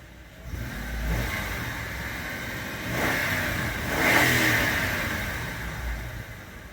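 A car engine idling and lightly revving after its idle air control valve was cleaned, a steady mid-pitched hum that swells a few times, heard close with no talking.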